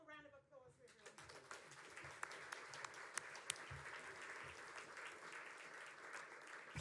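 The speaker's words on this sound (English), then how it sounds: "One more round of applause for everyone" Applause from an audience at a community information session on harmful algal blooms, a dense steady wash of many hands clapping after a brief voice at the start, moderately distant and sustained throughout.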